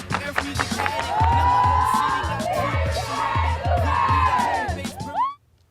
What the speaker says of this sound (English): On the count of 3, clap it up.